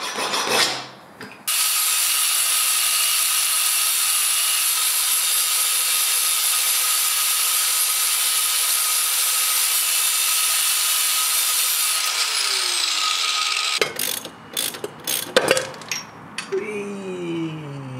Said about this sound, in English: And the angle grinder did the trick.